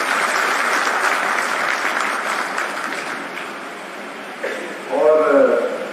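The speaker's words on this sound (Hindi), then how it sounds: "मैं चाहूंगा एक बार जोरदार तालियां बजाकर आप सब लोगों का स्वागत करें।" An audience at an official event announcing an air service for Uttarakhand claps in a sustained wash of applause that fades gradually, and then a voice begins speaking.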